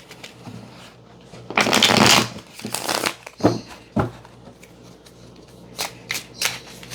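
Playing cards are shuffled in quick bursts of riffling and snapping, with a few lighter taps afterward.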